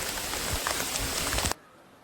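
Rain falls in a Malnad village during outdoor work, a soft, even hiss with a few dull nearby thumps, cutting off abruptly to near quiet partway through.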